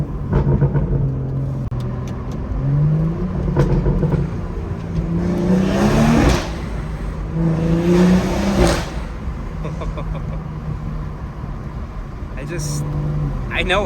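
BMW M240 with the B58 engine revving and accelerating on a night drive, its loud exhaust note rising and falling over several pulls, heard from inside the car with talking over it.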